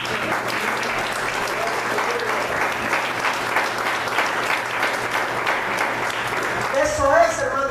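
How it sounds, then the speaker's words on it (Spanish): A church congregation breaks into strong, continuous applause with dense clapping at an even level. Near the end a voice rises over the clapping as it begins to thin. "¿Le puedes dar un fuerte aplauso al Señor?"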